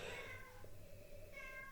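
A cat meows several times indoors, drawn-out cries standing out against a quiet background hum.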